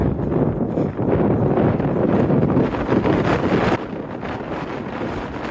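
Cold wind gusting across a high mountain trail near Monarch Pass on the Continental Divide, a steady loud roar buffeting the microphone, easing slightly after a few seconds but never stopping.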